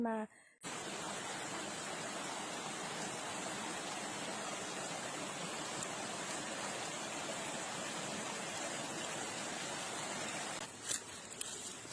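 A waterfall roars steadily and loudly, a broad continuous rush of falling water that begins abruptly after a brief quiet moment and carries on unbroken, with a faint knock near the end.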